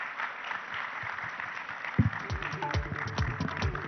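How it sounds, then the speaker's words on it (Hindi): Audience clapping at a summit event, a moderate bed of applause that continues throughout, with a voice or amplified sound entering partway through over the clapping. "आपकी जोरदार तालियों के साथ"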